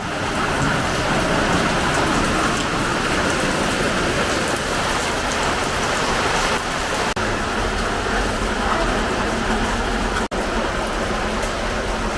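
Heavy rain pours down steadily and loudly, a dense unbroken hiss of drops hitting surfaces close by, with no break throughout.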